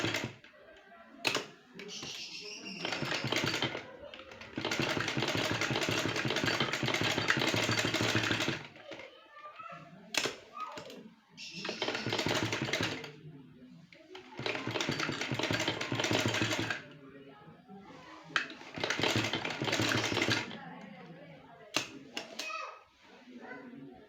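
Sewing machine stitching cutwork along a shape on a kurti daman, running in long steady bursts of several seconds separated by short pauses, close and fairly loud.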